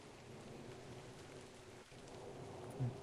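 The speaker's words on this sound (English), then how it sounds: "Yeah, it's raining." Steady rain falls in a VR video game, a dense even patter with faint low rumbles, and no voices.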